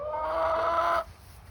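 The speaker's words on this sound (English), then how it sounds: "This is my first year with chickens." Backyard chickens in snow giving a steady, close, tonal clucking call that holds for about a second and then cuts off, leaving quiet outdoor background.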